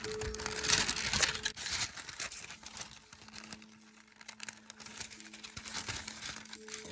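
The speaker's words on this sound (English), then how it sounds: "So I want you to take the tape away. And I want you to fold the tape back on its side." Tape peeled off and folded back on a sheet of sketch paper, giving crinkling, crackling rustles close by, busy at first, then quieter with faint tonal hum in the background.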